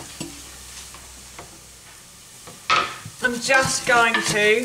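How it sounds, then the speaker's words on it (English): Onion going into hot oil in a frying pan for shepherd's pie: quiet stirring at first, then a sudden loud sizzle that keeps crackling as it is stirred, with a brief spoken line under it. "the oil has started to sizzle in the bottom of the pan"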